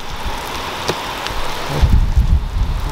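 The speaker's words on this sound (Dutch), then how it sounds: "kijk, je ziet het echt dat het aan het regenen is hier." Rain falls steadily outside in a broad, even hiss, with a few heavier close thuds and patters near the end and no talking.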